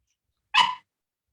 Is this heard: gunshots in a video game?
no